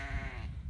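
A single lamb lets out a short, close, wavering bleat that cuts off abruptly.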